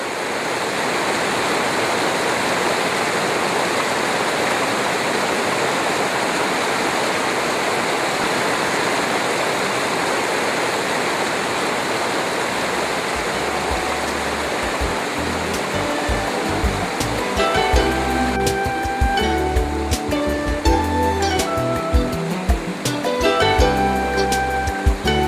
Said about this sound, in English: we walked another 500 meters above the quarry in the mountains to see a nice and very high waterfall